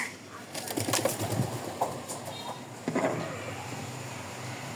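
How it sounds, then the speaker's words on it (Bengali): Domestic desi pigeons kept by a village farmer, a breeding pair with young, give soft intermittent coos among fluttering and rustling, fairly close, with faint background noise. "এটা হচ্ছে দেশি কবুতর, বাচ্চা আছে।"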